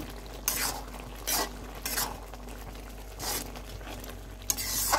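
A spoon stirs and mixes lentil curry with spinach stems in a pan, giving a few scraping, clattering strokes over a faint background sizzle.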